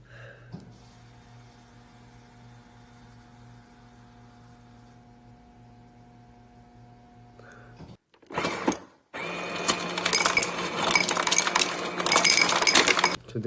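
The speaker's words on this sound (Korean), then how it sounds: "저 냉장고 쟤는 라이브만 키면 자꾸 저런다." A household refrigerator running in a room during a live broadcast gives a steady, low tonal hum for several seconds, then a louder, busier burst of rattling noise takes over.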